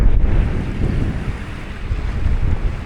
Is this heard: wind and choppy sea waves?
yes